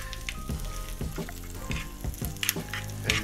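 Curry leaves crackle and sizzle in hot oil with mustard seeds for a curd tempering, a dense continuous frying hiss with sharp pops and stirring scrapes, close and fairly loud, no talking.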